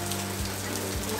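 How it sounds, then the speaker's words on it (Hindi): Steady early-morning rain that has fallen all night, a continuous soft even patter with no voices. "हो रही है बारिश कंटिन्यू रात भर"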